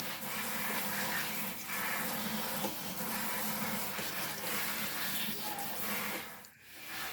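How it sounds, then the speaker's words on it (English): Collard greens being washed in a kitchen sink full of water, with steady sloshing and splashing as the leaves are swirled and moved, continuous and fairly close. "I wash them on one side and then I transfer them to the other."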